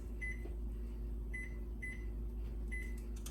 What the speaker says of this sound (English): gonna set the timer,